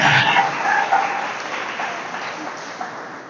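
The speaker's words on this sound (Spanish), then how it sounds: "Dale un fuerte aplauso al Señor." A church congregation applauds, a dense wash of clapping that bursts loud at the start and then slowly fades, with no voices clearly heard over it.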